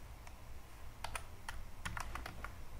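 Quick, light clicks of keys being pressed on a computer keyboard, a short irregular run of taps heard close up against a quiet background.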